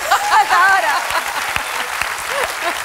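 Studio audience applause on a Spanish TV show, steady dense clapping throughout with a voice speaking or cheering over it near the start.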